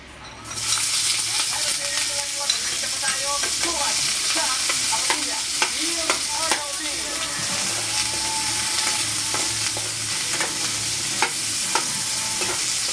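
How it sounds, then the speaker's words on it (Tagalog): Cooking oil heats in a pan for sautéed cabbage, making a steady, close sizzle with scattered light clicks and scrapes of a utensil stirring against the pan. "Ayan, nagpainit ako ngayon ng mantika."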